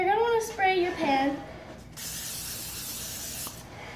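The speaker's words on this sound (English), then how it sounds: "So you're just gonna take it and you're gonna wanna spray your pan." Pam cooking spray hissing onto a baking pan for brownies, a steady close spray lasting about two seconds after someone speaks briefly.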